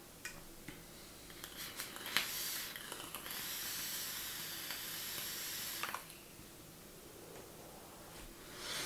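An Ato UD Bellus vape atomizer, with its airflow fully open, gives a long, steady sizzling hiss of vapour lasting several seconds, close and alone, with faint ticks before and after.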